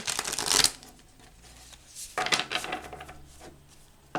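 A deck of tarot cards is shuffled up close in two crisp riffling bursts separated by a brief pause, with a third beginning at the end.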